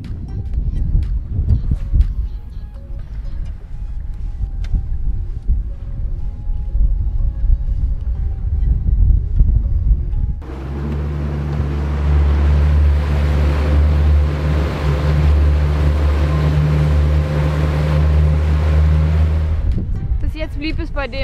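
Gusty wind buffets loudly against the recording on cold open water while pike fishing, rumbling over a low engine drone, with a person talking through the first half.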